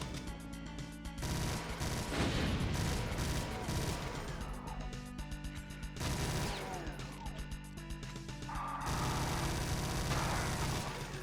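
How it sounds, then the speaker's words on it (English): Super shotgun blasts in Doom with the Brutal mod, a dense run of loud, booming shots with crashing impacts and gore, repeated in bursts over a constant game soundtrack. "I'm gonna run out of all my super shotgun rounds"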